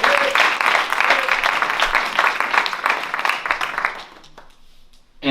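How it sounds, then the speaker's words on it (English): Audience applause for keyboardist Nick Masters at an MLK tribute jazz concert, a dense, steady wash of clapping from a crowd that fades out near the end. "At the keyboard, a wonderful round of applause,"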